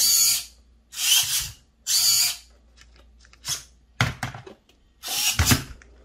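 A flipped servo with a short horn on a Redcat Lowriders hopping RC lowrider car drives the suspension in about five loud, close whirring bursts, each ending in a soft clunk, with no voices.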